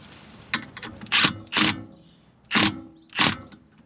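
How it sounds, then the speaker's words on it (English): Ratcheting torque wrench on the front strut of a 2007 Subaru Impreza WRX, heard as four distinct bursts of clicking in two close pairs, fairly near, with short gaps and no talk. "Torque wrench."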